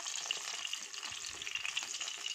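Gobi manchurian, battered cauliflower, crackles in oil while being turned: a bright, busy, close frying crackle with faint scraping underneath, steady for its short length and free of speech.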